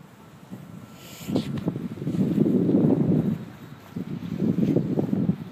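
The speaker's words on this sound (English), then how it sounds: "Man, it is windy out" Gusty wind buffets the microphone during an outdoor walk, rising and falling in low rumbling surges with no talking.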